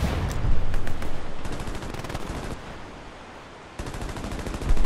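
Rapid gunfire from a World War II video game battle on Omaha Beach, shooting at an enemy soldier, bursts of loud shots crackling over continuous battle noise, dipping quieter midway before rising again.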